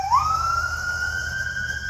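An emergency vehicle siren wails outdoors, sweeping upward and then holding a loud, steady tone close by, with a low background rumble and no speech.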